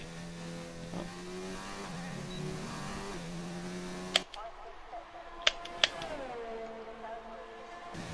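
A racing video game race car on a flying lap down the home straight, its engine droning steadily at a rising pitch, then cutting off with a few sharp clicks before revving again.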